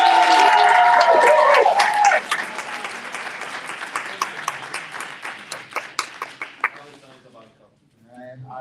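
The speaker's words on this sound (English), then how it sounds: "just give me a good round of applause." Audience applause at a live Las Vegas event begins over a speaking voice, then continues as scattered clapping that thins out and fades, with speech resuming at the end.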